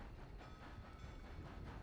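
A train rolling past outdoors, a steady broadband rumble with faint rhythmic clatter. The sound is continuous and moderately distant, with no voices over it.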